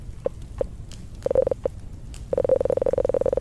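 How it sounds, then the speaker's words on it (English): Glitching synth oscillator in music software throws out sparse tonal clicks, then a fast buzzing train of them, crackling like a Geiger counter, close and fairly quiet. "It sounds like a Geiger counter."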